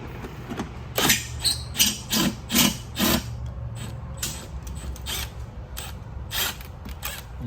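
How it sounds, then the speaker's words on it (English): A wrench working 13mm bolts that fasten a golf cart's roof frame to the cart frame on an Evolution EV golf cart, giving a run of short ratcheting clicks in quick bursts, then fainter, sparser clicks. "you're gonna take these 2 bolts that connect the frame of your roof to the frame of your cart out"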